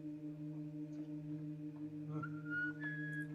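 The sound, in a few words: person whistling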